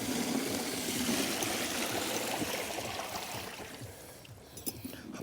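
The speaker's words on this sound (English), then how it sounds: "Put some water in there and see what happens." Water pours and trickles steadily into a backyard chicken waterer, a continuous close splashing stream that eases slightly toward the end with a few brighter drips.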